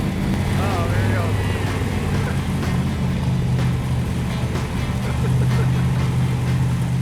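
A Dodge Challenger replica's engine idles with a loud, steady low rumble, close by and continuous, while people talk and exclaim over it.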